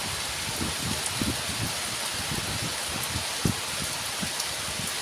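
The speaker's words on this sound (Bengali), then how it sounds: "বেশ জোর হচ্ছে কত দিন পর বৃষ্টি হচ্ছে" Heavy rain pours outside in a continuous rushing wash, with scattered louder drips and splashes breaking through the steady downpour.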